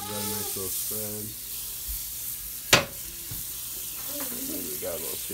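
Pancakes frying in butter in a pan over too-high heat, a steady sizzle running under the whole stretch, with a sharp clatter midway and a voice speaking over it.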